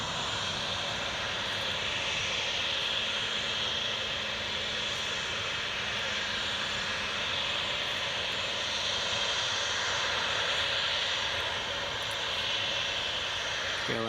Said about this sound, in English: Loganair should be just coming in.